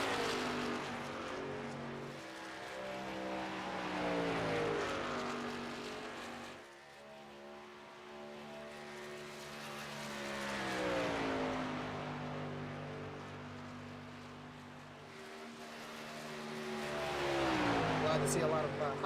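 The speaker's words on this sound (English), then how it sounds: "We got our first trucks out on track right now." Race trucks running on track at Charlotte Motor Speedway, engines droning and rising and falling as they pass at a distance, under continuous commentary.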